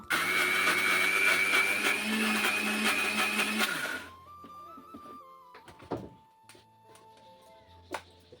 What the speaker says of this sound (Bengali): মুসুর ডালটা এখন এই যে পেস্ট করে নিব